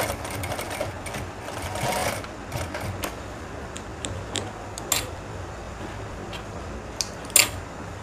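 A sewing machine stitches a danton collar along an old seam line, running in short, faint bursts of rapid mechanical ticking separated by quiet pauses.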